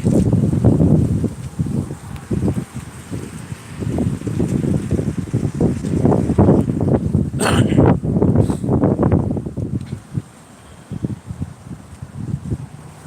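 Strong wind gusts buffet the microphone in bursts, a loud rumbling roar that surges and drops, easing off toward the end.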